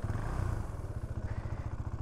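A 2019 KTM Duke 390 single-cylinder motorcycle with its quiet stock exhaust settles into a steady, close idle, with a rapid low pulsing engine beat and a faint mechanical clatter. No one speaks.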